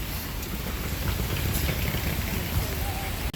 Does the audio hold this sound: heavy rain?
yes